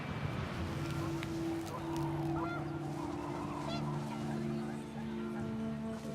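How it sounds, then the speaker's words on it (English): Panicked geese in the game What Remains of Edith Finch, a flock honking repeatedly in overlapping calls over a windy outdoor backdrop, moderately close and fading toward the end. "The wind picked up and panicked geese appeared and quickly went."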